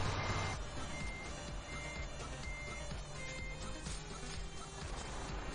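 A truck in Euro Truck Simulator 2 sounds steady, evenly spaced reversing beeps over a low engine drone, continuous and moderately loud with no talk.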